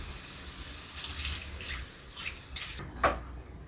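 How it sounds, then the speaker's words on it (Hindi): Water poured from a bowl into a pan of fried masala while cooking dum aloo at home gives a few splashing, trickling bursts, the loudest near the end, with no speech. "अब इसमें हम पानी डाल दे रहे हैं, 1 कटोरी पानी डाल रहे हैं।"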